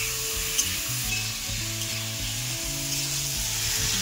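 Cumin paste being sautéed in a pan for fish curry, a steady soft sizzle heard up close with no voices over it, under a constant low background hum.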